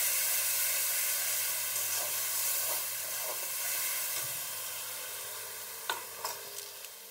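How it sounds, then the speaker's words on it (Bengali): Ground spice paste hitting hot oil in a pan for Bengali pangas fish, a steady sizzling hiss that fades gradually, with a few spoon clinks and stirring scrapes toward the end. "এই যে মশলাটা আমি পিষে নিয়েছিলাম, এখন সেই মশলাটা দিয়ে দিচ্ছি।"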